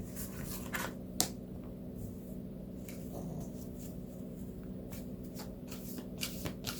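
Tarot cards are shuffled for a reading in a quiet room, a series of soft papery riffles and flicks repeating through the stretch, with one sharper snap of the deck partway through.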